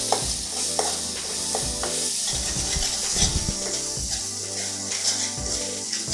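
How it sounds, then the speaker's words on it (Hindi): Masala with garam masala and amchur powder roasts in a pan for chole, with a steady close sizzle under repeated scraping stir strokes of a spoon. "अब हम इसे थोड़ी देर और भुनने देते हैं, 1-2 मिनट के लिए।"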